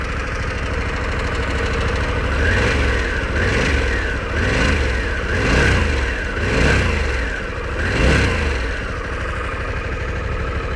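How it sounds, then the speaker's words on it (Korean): Harley-Davidson Pan America 1250 motorcycle exhaust held at a steady idle and blipped in several short revs, each rising and falling in rhythm, close and loud with no talk. "배기음 잠깐 들어보실까요?"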